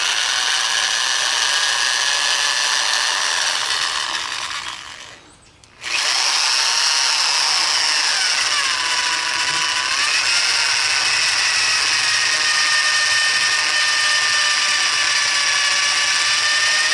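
A power drill with a 9/32 bit whines steadily and loud, cuts off briefly, then spins back up, its pitch dipping and rising as it bites under load.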